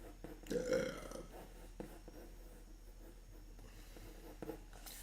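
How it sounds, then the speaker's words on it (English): A single loud, close burp near the start, during a live sketching and character-design stream, followed by quiet room tone with faint scratchy sounds. "I'm always burping on this fucking live stream."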